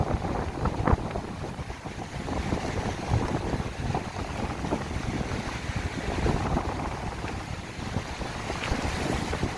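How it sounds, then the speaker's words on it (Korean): Strong wind blowing hard at the seaside, a steady loud roar with gusty buffeting against the microphone and surf beneath, continuous throughout with no voices. "바람이 엄청 셉니다."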